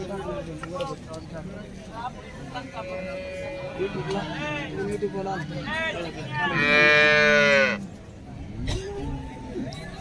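An HF (Holstein Friesian) cow that has recently calved moos loudly and close by at a cattle market, one long drawn-out call, amid faint background voices and shuffling.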